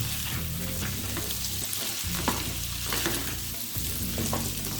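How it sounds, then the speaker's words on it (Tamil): Cubed potatoes roast in hot ghee, giving a steady, close sizzle and crackle with occasional scraping stirs, constant throughout and with no voices. "ப்ரௌன் கலர் ஆகிற வரைக்கும் நம்ம ரோஸ்ட் பண்ணுவோம்"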